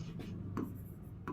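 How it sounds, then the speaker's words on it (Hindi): A teacher writes on a board during a geography lesson, producing a few soft, brief scraping strokes at irregular intervals, faint against the quiet room. "और यहाँ मैं लिखता हूँ"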